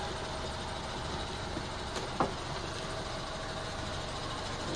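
A car with an electronically fuel-injected engine idles just after starting, a steady even rumble with a single short click partway through and no talk.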